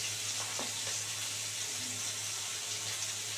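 Prawns coated in salt and turmeric fry in a pan with a steady, even sizzle over a low hum, and a few faint clinks come near the start.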